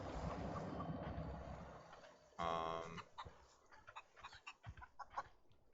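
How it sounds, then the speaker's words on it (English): Chicken clucking in the video game The Outer Worlds, a brief loud burst of clucks followed by scattered fainter clucks and game sounds, with no talk. "A chicken."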